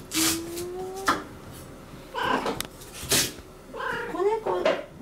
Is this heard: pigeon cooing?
no